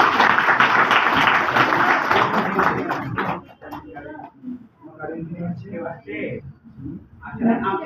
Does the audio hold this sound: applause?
yes